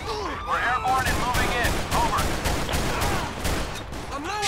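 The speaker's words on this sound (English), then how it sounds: "I am under heavy fire." Dense, sustained gunfire from a night-time police shootout in the LSPDFR game, with rapid overlapping shots and bursts cracking without a break, loud and close, while a voice speaks over parts of it.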